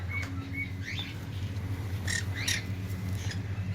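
A wild-caught male parrot squawks in harsh, sharp bursts, with fluttering wing flaps in between, heard close against a steady low background hum.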